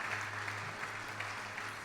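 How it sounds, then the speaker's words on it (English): Audience applause at an awards ceremony in Los Angeles, a steady wash of clapping that sounds fairly distant and soft, with a low hum running underneath. "I think she deserves a round of applause again."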